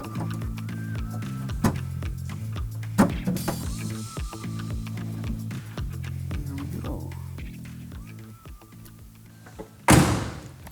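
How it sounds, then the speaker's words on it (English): Several solid door thunks on a 1972 Chevrolet Corvette at irregular intervals over a steady low mechanical hum, ending with a heavier, louder slam. "That actually sounds like a nice solid door now."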